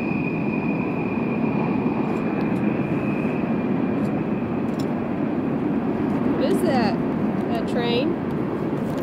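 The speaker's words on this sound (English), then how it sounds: "There's a train. I don't know if you can see it, but you can definitely hear it." A passing train is heard from a hiking trail at Castlewood State Park, a steady broad rumble filling the whole stretch at constant volume, with a faint high tone and brief brighter squeals near the end.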